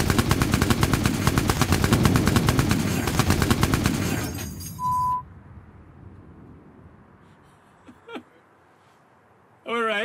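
Machine guns of a Lancaster bomber gunner hammer out a loud, rapid continuous burst for about four seconds, then cut off, leaving a quiet background with a couple of faint beeps.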